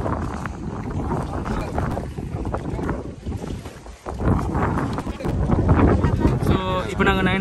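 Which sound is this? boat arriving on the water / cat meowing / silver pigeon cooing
boat arriving on the water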